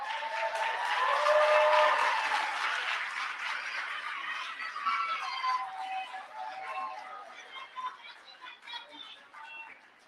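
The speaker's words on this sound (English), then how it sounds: "give them a round of applause" Audience applause at a practical nurse pinning ceremony swells to a peak early, then thins into scattered claps that fade toward the end, moderately distant in a large room.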